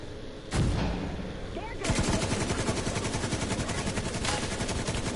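In the shooter game The Division 2, a grenade blast booms early on, followed by a dense, rapid stream of gunfire that continues to the end, loud and close, with players talking over it.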